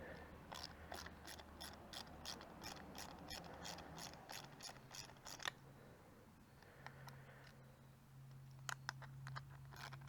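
A ratchet turning a number 8 socket to loosen a reflector nut on a Kawasaki Z500 motorcycle, making rapid, close clicking bursts in several runs with pauses, over a low steady hum.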